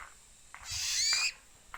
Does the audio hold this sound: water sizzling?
no